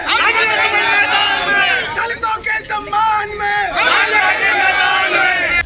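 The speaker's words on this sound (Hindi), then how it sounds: "लाल टोपी पहने नारे लगाते सपाइयों की भीड़" A loud, dense crowd of Samajwadi Party workers in red caps chants slogans in unison, voices rising and falling in repeated waves close by, with a voice speaking over the din.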